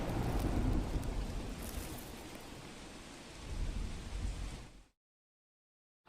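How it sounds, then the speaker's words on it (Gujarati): Heavy monsoon rain in Ahmedabad pours in a steady, dense hiss that swells briefly, then cuts off abruptly into silence. "અમદાવાદમાં પહેલો વરસાદ"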